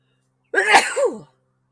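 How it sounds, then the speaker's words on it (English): A single sharp sneeze, close and fairly loud, bursting out after a brief silence and fading quickly. "I may sneeze. Competition makes me sneeze."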